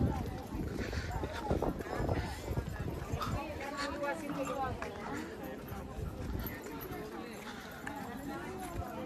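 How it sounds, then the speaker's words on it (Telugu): Hooves of a bullock cart clip-clop steadily along, with people chattering over them throughout. "ఎద్దులు కట్టి బండ్లు లాగుతున్నారు"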